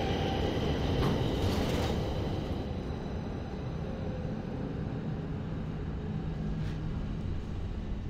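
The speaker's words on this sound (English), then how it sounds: "There's so many trains in this game." A train in a video game rumbles past with a heavy, steady low roar and rattling, fairly loud and continuous, with no talk over it.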